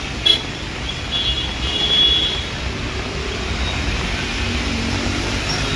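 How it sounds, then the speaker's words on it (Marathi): Steady traffic drone at a jammed bus stand circle in Panjim during heavy rain, a continuous low roadway rumble of idling and slow-moving vehicles at moderate distance, with a brief bump near the start and no talking. "ट्रॅफिक कंडिशन खूब टायट आसा."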